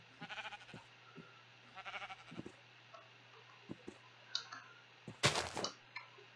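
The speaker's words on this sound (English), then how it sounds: "I got sheep." Minecraft sheep give several short, close bleats, with game clicks and ticks scattered between them and a louder burst of noise near the end.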